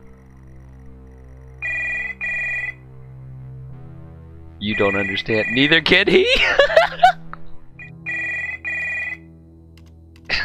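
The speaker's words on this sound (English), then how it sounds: "It's her phone." Telephone ringing in the horror text adventure game Stories Untold, an electronic bell ringing in repeated bursts with pauses between them, loud over a steady mains hum, while a person talks excitedly in between rings.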